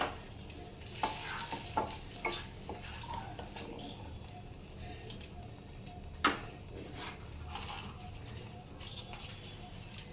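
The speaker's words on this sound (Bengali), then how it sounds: "এরপরে আমি ফোড়নটা দিয়ে দিব দুটো শুকনো লঙ্কাটা দুটো তেজপাতাটা" Two dry red chillies and two bay leaves drop into warm oil for tempering. A close, steady sizzle and frying crackle follows, with occasional stirring clinks of a utensil against the pan.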